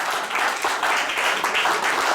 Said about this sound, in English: Give Uncle Jimmy a round of applause.